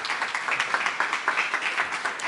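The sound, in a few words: audience applause welcoming a speaker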